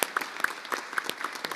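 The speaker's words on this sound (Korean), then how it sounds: "큰 박수로 화답해 주시기 바랍니다." Scattered applause at a formal government cooperation meeting, a few quick claps spread over a second and a half, sparse and moderately close.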